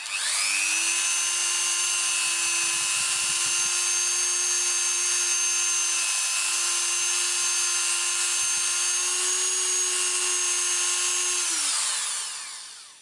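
A Dremel rotary tool spins a rubbing pad against a wooden bead, a steady high-pitched whine held for about eleven seconds before winding down, close and loud, with faint contact scratches and no speech.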